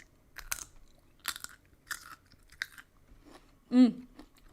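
Several crisp, close crunching bites into a raw radish at irregular intervals in a quiet space, followed by a short louder sound at the end.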